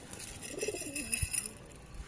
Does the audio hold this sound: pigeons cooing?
yes